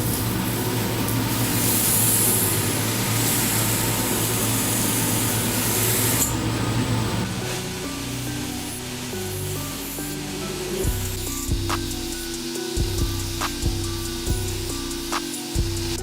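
A titanium knife framelock is sandblasted with a steady, loud hiss of grit that runs for about six seconds, then drops to a quieter rumble with scattered clicks and a low mechanical hum.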